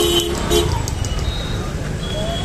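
Honking car horns in busy, congested street traffic at a vegetable market, with short horn toots cutting through a steady roadway rumble and scattered voices in the background.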